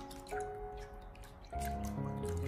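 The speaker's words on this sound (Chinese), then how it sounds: "接下来我们再把鱿鱼里里外外都给它清洗一下" Squid is rinsed clean with water, heard as close dripping and squishy wet handling, with two brief louder splashes breaking a quieter trickle; no one speaks.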